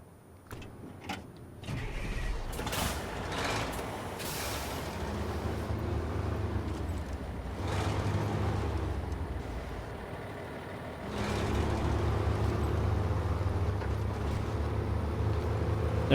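Heavy truck in the SnowRunner off-road game, engine recently upgraded, revving and driving along a main road; a steady rumbling drone with a few sharp clicks early on, growing louder in the final seconds.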